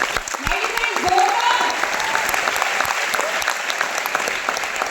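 An audience bursts into loud, sustained clapping that holds steady for several seconds, with a few voices and cheers rising briefly within the applause.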